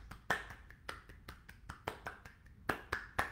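A few people clapping for a finished book reading, with sparse, uneven claps and snaps spread over a few seconds, fairly faint and close, with no talking.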